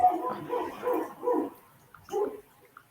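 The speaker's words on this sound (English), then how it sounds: "I hear a doggy." A dog barks a few times in quick irregular bursts, moderately close, mixed in with people talking.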